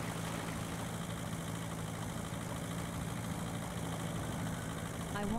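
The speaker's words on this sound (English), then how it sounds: "The engine was stalling." An engine idles with a steady, dense low hum and a faint rough vibration, continuous and fairly loud throughout, with a slight swell at the very end.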